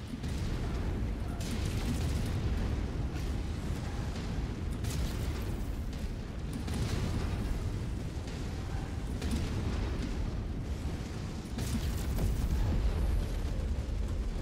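Missile strikes pound a MechWarrior 5 battlefield in a steady barrage of heavy booms and rumbling explosions, loud and continuous, with gunfire bursts mixed in and no clear speech.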